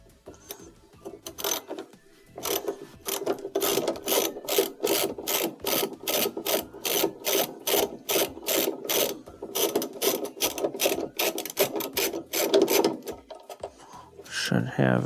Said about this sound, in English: you'll have to use a 10mm deep well socket, and there is 1 bolt in the middle that you'll have to take out